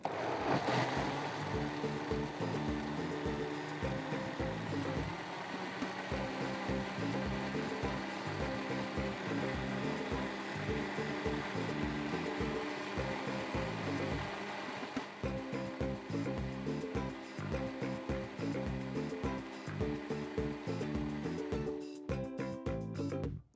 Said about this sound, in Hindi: इसको भी ब्लेंड कर देते हैं until it is a smooth paste